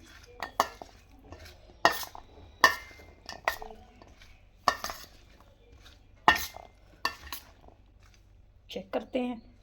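Fruit chaat with chickpeas is tossed in a bowl, with a spoon clinking and scraping in irregular bursts and soft squishy mixing between them, while a voice talks quietly in between.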